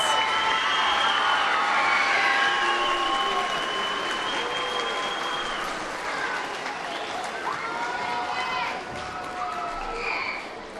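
A sustained round of applause from a seated audience at a junior high school academic awards program, dense steady clapping filling a large room with some cheering voices mixed in, continuous throughout and gradually easing slightly near the end.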